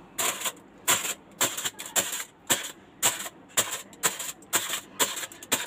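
Aluminium foil stretched over a pot of rice is pierced repeatedly while making chicken mandi, giving about a dozen sharp, crisp crinkling pokes in a steady rhythm, close and alone with no talking.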